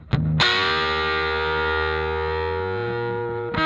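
Malekko Wolftone Unity effects pedal producing a single sustained, distorted tone with chorus-like shimmer, struck once and ringing steadily at close range before a brief new attack at the end.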